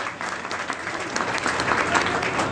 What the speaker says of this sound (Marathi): एकदा परतूरकरांसाठी जोरदार टाळ्या वाजूया.